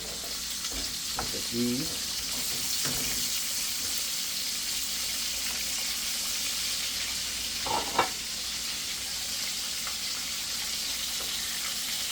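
Bacon frying in a hot pan, a steady loud sizzle filling the whole stretch with a few small clinks and a brief voice speaking over it.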